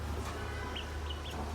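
Free-ranging chickens in a small yard cluck faintly, a few short calls rising over a low, steady background hum.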